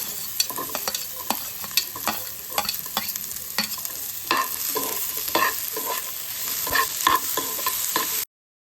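Radish and onion fry in a pan for radish chutney, giving a steady loud sizzle broken by frequent scraping stirs from a spatula, with no voices.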